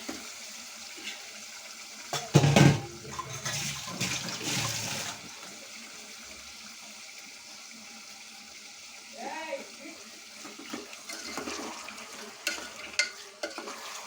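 Chicken pieces with skin cook in a pan for curry, a soft sizzle with scraping and stirring, a louder burst of clatter early on, then quieter simmering with occasional faint voice.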